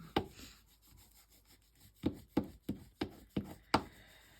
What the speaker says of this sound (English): Turn it over and burnish it.